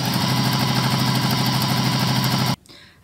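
A sewing machine running steadily at close range joins two fabric quilt strips with a quarter-inch seam, giving a fast even mechanical whir that stops abruptly near the end.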